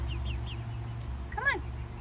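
Backyard chickens giving soft clucks and one brief rising call near the end, close by over a steady low hum, no speech.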